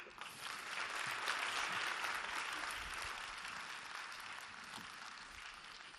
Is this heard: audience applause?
yes